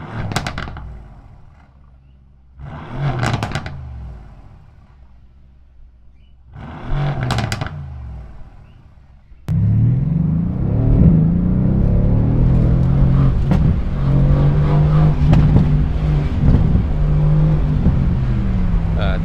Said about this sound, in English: I'm gonna give y'all some revs real quick.